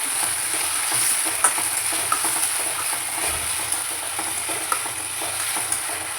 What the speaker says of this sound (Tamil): கத்திரிக்காய் கருணக்கிழங்கு நல்லா வதங்கிடுச்சு பாருங்கள்.